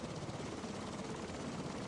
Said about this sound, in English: Thanks for the helicopter, dude.